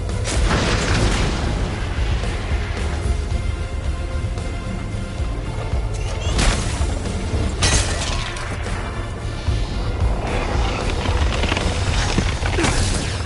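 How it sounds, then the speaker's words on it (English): Thunderbolt missiles detonating in the Iron Man VR game: a dense, sustained barrage of loud booms and shattering blasts, with several sharp explosive bursts standing out over a constant roar. "Target information sent. Thunderbolt missiles away."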